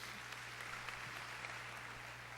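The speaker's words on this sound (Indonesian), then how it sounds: "Beri tepuk tangan yang meriah betul." Steady applause from a church congregation during a Sunday service sermon, a dense wash of clapping at a fairly quiet level with a low steady hum underneath, no break across the moment.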